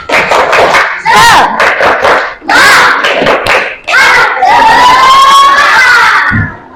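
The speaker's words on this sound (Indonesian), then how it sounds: "Kita tepuk semangat dulu biar semuanya enggak berisik." Classroom of students performing a spirit clapping chant, loud shouted voices in unison punctuated by bursts of rhythmic hand claps, close and energetic.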